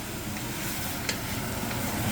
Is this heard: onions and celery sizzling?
yes